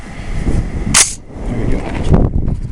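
An AR-15 bolt release paddle is pressed and the bolt slams forward with one sharp, loud metallic snap. A fainter clack follows about a second later, with quiet handling noise around both.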